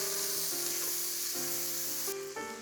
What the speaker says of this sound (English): now with the grease that's left in the pot, we're going to add 1 finely diced yellow onion.